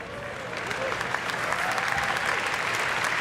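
Audience applause and cheering fill a conference hall at a Google I/O Kotlin introduction, steady and dense throughout, with a few whistles or shouts rising over it.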